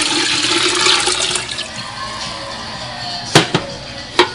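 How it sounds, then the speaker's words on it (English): Water pours into a big soup pot for homemade chicken noodle soup, a rushing splashing stream that fades out, followed by a few sharp clinks of the pot. "I'm also going to add some water."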